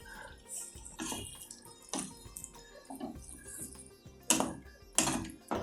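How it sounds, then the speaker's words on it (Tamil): Boiled green peas and their cooking water are poured into a pan for a pea sabzi, giving irregular splashes and watery clatters with two sharper splashes near the end. "அந்த பட்டாணியை அப்படியே தண்ணியோடு இதில் ஆட் பண்ணிவிடுங்க."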